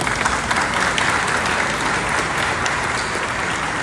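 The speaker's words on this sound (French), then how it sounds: "avec l'applaudissement de l'Assemblée" Steady, dense applause from the congregation at a Baptist Convention of Haiti installation ceremony in Cap-Haïtien, filling the room at an even level from start to finish with no talk over it.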